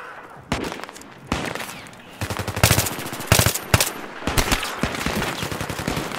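Battlefield 3 gunfire, with repeated loud automatic bursts and single shots close by, in rapid uneven volleys and a few heavy thuds, with a voice barely present.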